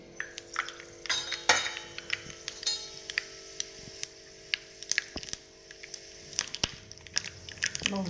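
Mustard seeds splutter in a little hot oil in a small tadka pan, a scatter of sharp irregular pops and crackles at close range, fairly quiet overall.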